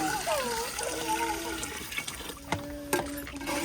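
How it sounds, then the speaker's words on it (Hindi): Water is poured into a pot of browned chicken for village-style chicken biryani, a steady splashing, gurgling pour, while people talk nearby. "तो अभी जो है हम पानी ऐड कर रहे हैं"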